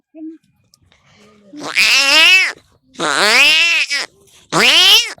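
A boy imitates two cats fighting, voicing three loud, drawn-out yowling caterwauls with rising and falling pitch, each about a second long and separated by short pauses.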